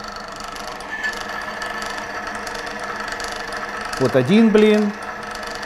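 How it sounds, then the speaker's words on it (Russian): Electric motor squeaking from friction as weights of about a kilogram each are added to a lever arm in a lubricant test rig; a loud rising squeal appears near the end, after speech and over steady motor whir. "Слышим писк, то есть пошло трение."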